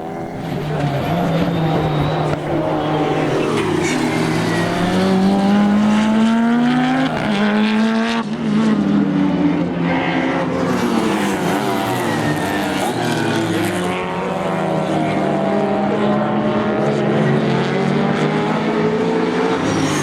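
Subaru Legacy race car lapping the track at Taupo, engine note loud and continuous for the full stretch, pitch climbing and falling through gear changes, with brief tire squeal and another car's sound mixed in.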